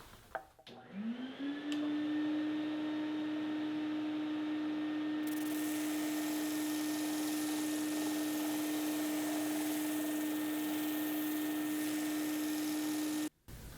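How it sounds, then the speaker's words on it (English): A shop vacuum roars steadily with a high whine while a wood lathe motor hums alongside as a wooden scoop is turned, a loud continuous drone that cuts off abruptly at the end. "I'm going to turn on the shop vac and the lathe"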